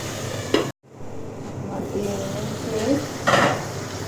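Boal fish sautéing in a pan, a close sizzle with spatula scrapes and clinks, briefly cut off near the start, then returning with a louder burst of stirring toward the end; a faint voice may be present.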